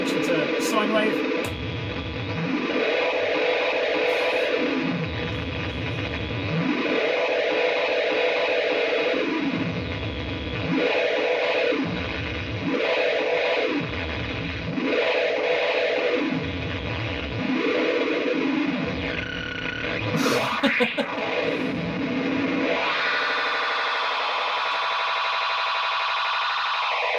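A guitar runs through a Death By Audio Echo Dream 2 echo pedal set to sine wave modulation, giving smooth, repeating rising and falling pitch sweeps every couple of seconds. The wavering tone is loud and sustained, fading out near the end.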